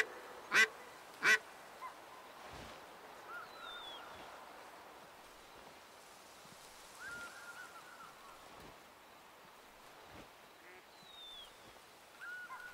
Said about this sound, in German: Das sind einige Enten da vorne.